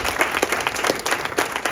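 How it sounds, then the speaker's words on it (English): Audience applauding scholarship students at a governor's speech at CNM in New Mexico: dense, steady clapping from a crowd, fairly loud and close, with no speech over it. "You can give yourselves a round of applause."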